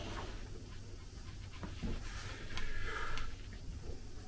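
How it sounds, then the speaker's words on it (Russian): An abandoned dog, freshly cleaned, pants close by in quick rhythmic breaths with a brief snort and a faint whimper, and no one speaks. "Ну, он хороший пес."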